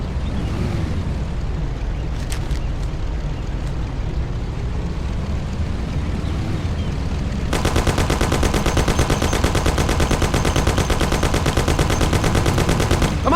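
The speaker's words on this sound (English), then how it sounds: "Take my Thompson. You and Sam shoot them" A Thompson submachine gun fires in the Mafia video game, unloading a long, rapid, continuous burst over a low rumbling vehicle background, loud and close after several seconds of engine noise.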